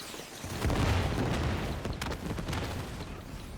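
Muffled, rumbling gunfire and booms from the Arkham Knight video game roll continuously at moderate loudness, with sharper bursts toward the end.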